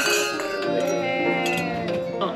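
Wine glasses clink together in a toast over a seaside meal in southern Italy's Puglia region, giving a bright ringing chime that fades slowly, with people talking underneath.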